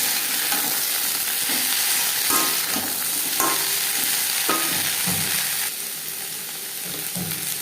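Carrots and yardlong beans stirred and frying in a pan for vegetable khichuri, a steady close sizzle with scattered spoon scrapes and clacks against the pan, no voices.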